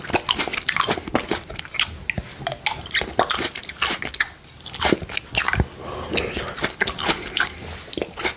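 Sliced red grapes being eaten up close, with juicy bites, wet crunches and steady smacking chews in quick succession, plus a soft voice now and then.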